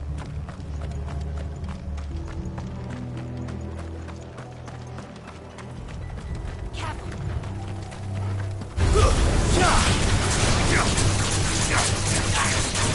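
Horses in the video game Final Fantasy XVI clip-clop with rhythmic hoofbeats and creaking mechanical noises, then a sudden loud burst of battle din takes over for the last few seconds.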